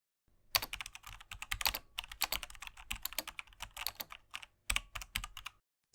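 Typing on a computer keyboard while writing code: rapid, close key clicks in uneven bursts with brief pauses, crisp and steady, heard alone without voices.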